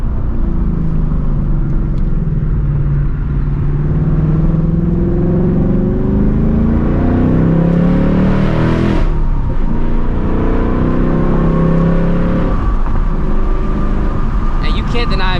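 A Ford Mustang S650 engine revs loudly and close by, its pitch climbing and falling through several throttle blips, while someone talks over it.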